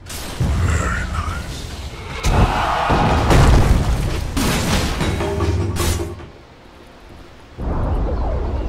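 A tower being destroyed in the Dota 2 video game, a loud booming crash with rumbling debris over several seconds that drops off, then a further burst of game noise.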